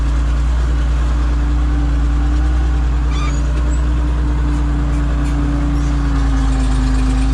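A farm tractor engine runs with a continuous loud, close, droning hum that stays level throughout, with faint higher noises briefly above it.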